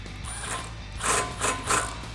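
Ratchet wrench tightening a 15mm bolt and 14mm nut on a coilover shock during an SR Performance sport coilover install on a 2015-2019 Mustang; a few close ratcheting bursts over steady low hum, no talk.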